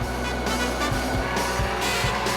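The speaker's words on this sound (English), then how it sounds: "See how the Chev Corvette's travelling." A Chevrolet Corvette races on track, its engine roaring loudly and close with a few rhythmic low thumps as it pushes through gears, with no talking.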